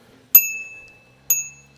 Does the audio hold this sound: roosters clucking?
no